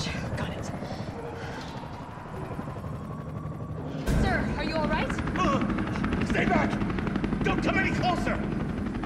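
A helicopter whirs in Resident Evil 3 Remake, a steady rotor drone that grows louder partway through and mixes with rapid gunfire-like clatter and other game effects.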